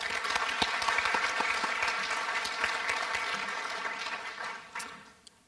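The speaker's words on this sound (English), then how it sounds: "Let's give a round of applause for Caitlin." An audience at a youth human rights awards ceremony applauds an honoree, with dense, continuous clapping that holds steady and then tapers off near the end.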